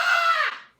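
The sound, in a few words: woman screaming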